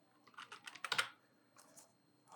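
Someone types text on a computer keyboard in a quiet room: a quick run of soft, clicky keystrokes bunches up in the middle, then a few scattered taps follow.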